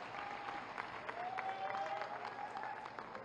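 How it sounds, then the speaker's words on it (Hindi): Applause at a Viksit Bharat Sankalp Yatra event in Azamgarh welcoming Chief Minister Yogi Adityanath, a steady, fairly distant clapping from a crowd with a faint tone running through it. "जोरदार तालियों के साथ उनका अभिनंदन करें"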